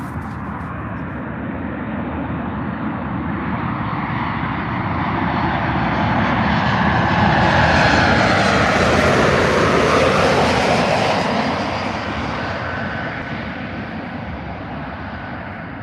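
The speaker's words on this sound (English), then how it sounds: "We've got another plane coming in." An airplane coming in to land at Manchester Airport passes overhead, its engine roar swelling from a distant rumble to a loud, broad whoosh before fading slightly, with no talking.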